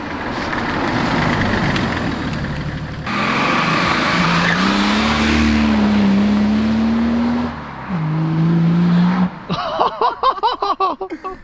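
A BMW E30 fitted with a 530d diesel engine revs loudly and bogs down, the engine note rising and sagging before cutting into rough, stuttering pulses near the end.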